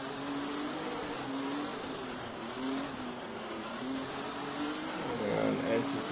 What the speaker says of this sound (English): Safety car making its way round the last couple of corners.